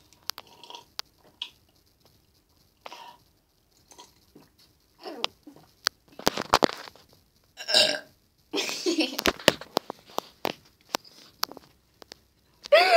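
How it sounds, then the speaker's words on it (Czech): Loud burps break out among friends drinking an alcoholic drink with lemon. They come between chewing and crunching noises, scattered clicks and brief bits of talk. "to bylo krknutí"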